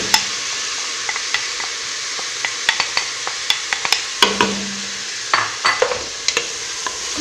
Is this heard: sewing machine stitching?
no